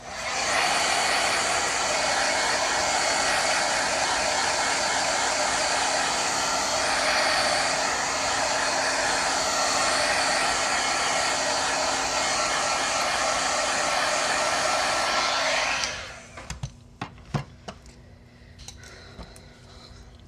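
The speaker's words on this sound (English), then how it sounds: "Okay, I'm just gonna dry it real quick." A hair dryer blows steadily at close range for about sixteen seconds, drying paint on a card, with a loud constant whooshing drone, then cuts off abruptly, leaving faint clicks and handling noises.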